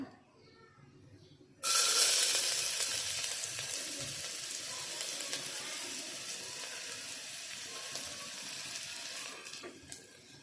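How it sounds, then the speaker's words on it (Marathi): Onion drops into hot oil in a pressure cooker and a loud, steady sizzle starts up and continues, slowly fading slightly over time. "इथे कुकरमध्ये तेल तापत ठेवलं आहे आता आपण कांदा टाकून घेऊया"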